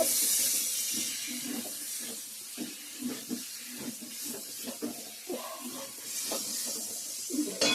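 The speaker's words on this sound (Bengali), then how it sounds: "মশলার সঙ্গে গরম জলটা দিয়ে দিব এখন" Hot water goes into sizzling spiced potato curry cooking in a pan, making a hissing, steamy sizzle with bubbling pops. The sound is close and moderately loud, with no voices.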